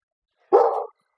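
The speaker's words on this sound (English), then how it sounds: "Yes, I have a dog in my kitchen." A single short dog bark rings out in a home kitchen, close and fairly loud, with silence before and after.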